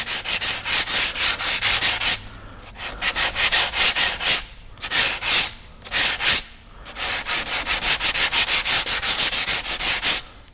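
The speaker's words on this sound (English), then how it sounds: "Spread the sanding around." Steady rhythmic hand sanding of glazing putty on a repaired hole in a rowing racing shell, a raspy back-and-forth scrubbing in quick strokes with a few brief pauses, close and fairly loud.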